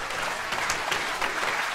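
Applause from a large comedy theater audience of about 2,400, a brief, moderately loud burst of scattered clapping with a few louder individual claps.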